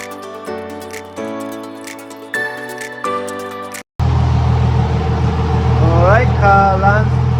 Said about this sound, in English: gonna start the car so you can get the car going on the oil and check for the leak